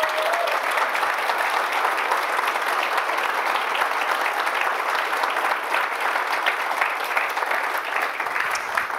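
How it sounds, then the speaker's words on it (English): A conference keynote audience gives a dense, steady round of applause from many hands, loud and continuous without a break from start to finish. "Let's give them an even bigger round of applause."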